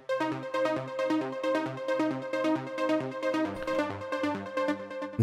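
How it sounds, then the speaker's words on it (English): A bright synthesized lead melody plays steadily in the midrange over a layered electronic backing, with a short shift in texture near the end, no voices. "Then we have the middle lead here,"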